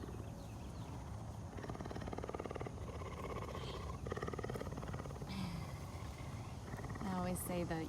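Aries, a male cougar at a big cat rescue, purrs with a low, continuous, pulsing rumble at close range, with some faint background sounds over it.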